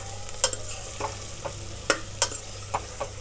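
Eggplant frying in oil on a low gas flame while being stirred, with a spoon scraping and clinking against the pan in irregular bursts over a faint, steady sizzle, close up and without speech.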